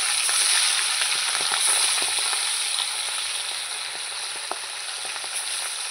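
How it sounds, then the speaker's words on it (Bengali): Hilsa fish sizzle in hot oil in a pan, a steady, bright frying hiss that carries on alone, with a few soft crackles and small clinks. "কয়েকটা মাছ আছে, আবার ভাজবো।"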